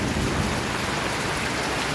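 A loud, close downpour from the edge of Cyclone Remal roars without letup, thick and even from start to finish.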